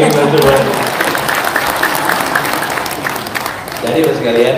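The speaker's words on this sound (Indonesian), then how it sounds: "Tepuk tangan sekali kita semua." Crowd clapping at an Anies Baswedan political rally with farmers, loud and continuous through the middle, while cheering voices and crowd noise swell at the start and end.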